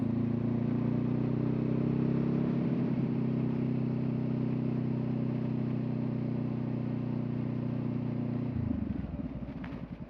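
A car idles and rolls slowly through a U-turn on a rural road in fall, a steady low engine drone heard from inside that drops off near the end as it slows.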